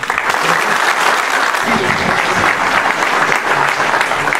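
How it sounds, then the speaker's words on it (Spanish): Loud, dense audience applause at a civic ceremony honoring a provincial figure, a steady roar of many hands clapping that fills the whole stretch without pause. "Fuerte el aplauso, por favor"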